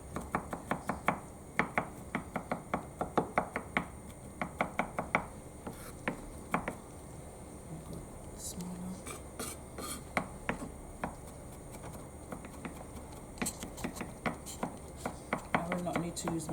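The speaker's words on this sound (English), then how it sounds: "I'm just going to cut it a bit smaller because I need it to be mixed in with the dish." A knife chops chicken and bacon for a carbonara on a board, quick rhythmic thuds in runs with quieter rubbing and scraping between them, close and moderately faint.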